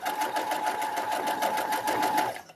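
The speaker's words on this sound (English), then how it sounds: "I'm gonna sew now" A sewing machine runs steadily at close range while stitching a hoodie, giving a fast, even mechanical whir with a rapid stitching pulse that keeps going for about two seconds and then stops.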